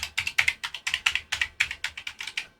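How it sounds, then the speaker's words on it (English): Keys on an Amiga computer keyboard being typed in quick succession, about fifteen close, crisp clicks in a steady uneven rhythm, with no voices. "we'll test the keyboard"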